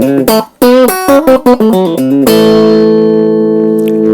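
An electric guitar plays a clean tone through a Fender Japan amp: a quick run of loud plucked notes in an uneven rhythm, then a final chord that rings and sustains steadily until the end.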